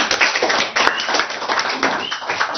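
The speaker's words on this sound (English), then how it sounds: "Let's give them all a big round of applause." Audience at a school Independence Day celebration claps after a performance, a close, dense patter of hands with individual claps distinct, continuous and fairly loud across the short span.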